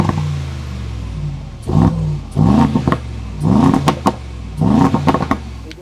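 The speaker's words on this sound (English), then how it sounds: "You get 2 exhausts on the left side and 2 exhausts on the right side, and they're black chrome and they sound amazing." Mercedes G63 AMG Brabus G700 with upgraded black chrome quad exhausts, two per side, idles in a low burble and then barks through four sharp, loud revs in a rhythmic sequence, close to the tailpipes.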